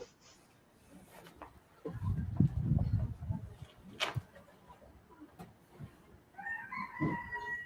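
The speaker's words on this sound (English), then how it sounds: "Now we can hear the roosters." Roosters crow a few times at a distance and moderate volume, with clucking fowl and other outdoor noises around them and no speech.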